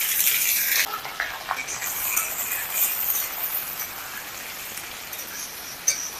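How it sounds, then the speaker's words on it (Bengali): Finely chopped onion fries in melted mutton fat, making a light, steady crackling sizzle like patter, a bit brighter at first and then settling to a constant hiss, with no talking. "পেঁয়াজটাকে একদম লাল করে ভেজে নিই।"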